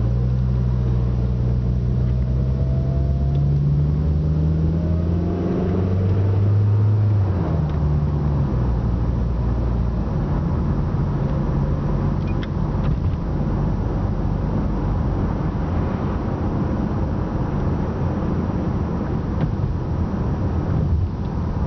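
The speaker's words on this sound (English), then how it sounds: "I think you get the point that the car drives absolutely fine" Rover 75 1.8 Turbo car driving along, a steady low engine rumble with road and wind noise, a brief rising rev early on, then constant cabin drone throughout.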